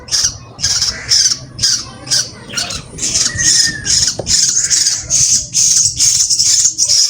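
A myna bird squawks while being fed, giving loud, harsh, repeated calls in a steady run of bursts, close up and clear with little else around.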